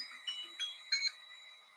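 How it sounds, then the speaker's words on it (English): A timer alarm beeps in short, bright, high-pitched electronic pulses, about three quick bursts at moderate level with no talking, sounding during an eyebrow tinting treatment. "Okay, timer is up."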